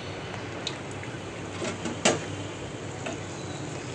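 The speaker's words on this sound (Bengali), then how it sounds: "এভাবে করে সম্পূর্ণ পিঠাটাকে আমি কয়েকটা লেয়ার করে ভেজে নিব।" Pantua pitha frying in layers in a pan, a soft steady sizzle with scattered light ticks and scrapes, one sharper clink near the middle, no voices.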